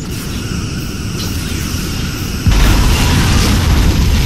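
Borg cube blowing up in a Star Trek space game, a sustained roaring hiss that erupts into a louder, deeper rumbling explosion halfway through.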